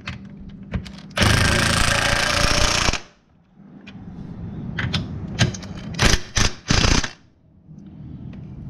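A power tool runs in loud bursts, one long two-second run and then several short rattling pulses, while tightening the 13 mm factory mounting bolts of an OpenRoad 4500 lb winch on a Can-Am Outlander 570 XMR ATV.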